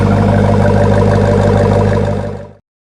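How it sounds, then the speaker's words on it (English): A 2018 Jeep Grand Cherokee Trackhawk's exhaust burbles loudly and close by in a deep, steady rumble that holds for over two seconds, then fades and cuts off. "Let's just hear that burble on the exhaust one more time."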